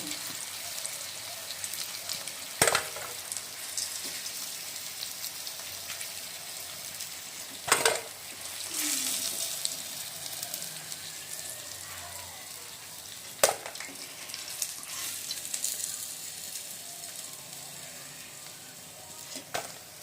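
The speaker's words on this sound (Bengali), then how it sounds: "তো আমাদের মাছ কিন্তু ভাজা হয়ে গেছে।" Tuna fish pieces frying in oil in a pan, a soft, continuous sizzle with a few sharp utensil clinks scattered through it, fairly quiet and without talk.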